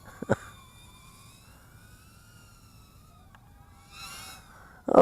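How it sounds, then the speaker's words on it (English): Fire engine sirens wail from a distance, rising and falling tones drifting in faintly, with a couple of sharp knocks at the start and a louder burst at the end. "we're going to call it quits here because the fire engines are coming somewhere"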